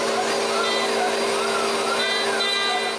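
Homemade dust collection vacuum in a woodshop sucking up sawdust, a steady loud whining roar with a high tonal hum that stays constant throughout.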